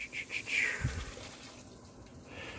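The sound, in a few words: stock at a rolling boil in a pot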